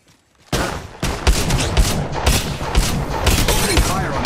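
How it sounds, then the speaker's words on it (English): Gunfire in Apex Legends Mobile erupts after a brief near-silence, arriving as loud, rapid bursts of shots that keep rattling close by to the end. "Opening fire on the enemy"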